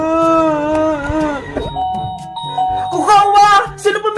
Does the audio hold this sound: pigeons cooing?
no